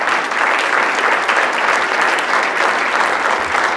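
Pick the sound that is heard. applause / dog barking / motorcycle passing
applause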